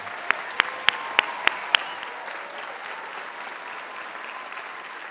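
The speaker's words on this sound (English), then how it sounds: "Please join me in a round of applause to thank all of our talented in-house artisans." An audience at a college commencement ceremony keeps up a steady, even applause throughout, while a few sharper, closer claps ring out early on.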